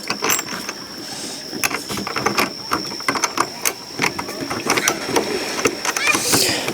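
Metal bolt, washers and lock nut being fitted through the side of a dock ladder on a DIY floating dock, giving scattered light clicks, taps and ratcheting clinks at close range, with occasional faint talk.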